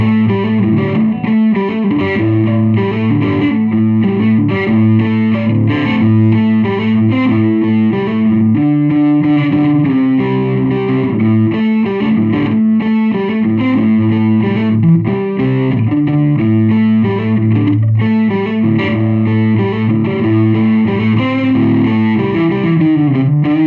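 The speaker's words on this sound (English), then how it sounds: "let's hear the speaker with the new cone" An electric guitar plays distorted riffs through a 1979 Sunn 128G 12-inch speaker fitted with a new cone. The tone is loud and continuous, with chorus-like shimmer, and no one speaks over it.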